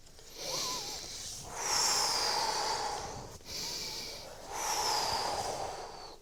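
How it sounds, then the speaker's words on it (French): Loud, close breathing in two slow cycles, each a long noisy inhale followed by a long airy exhale, paced to a crawling coordination exercise on hands and knees, alternating knees and hands, with no talk. "Et j'y associe la respiration."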